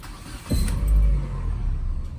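A 2003 Mitsubishi Lancer ES engine cranking and catching, a sharp click then a low rumbling start that settles into a steady idle, heard close up.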